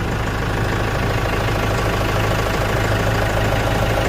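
An LS PS90 tractor engine runs steadily up close, a loud continuous diesel drone with a low knocking rumble that holds even throughout with no talk.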